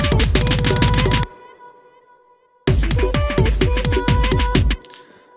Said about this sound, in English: Now our kick drum buildup is finished and should sound something like this.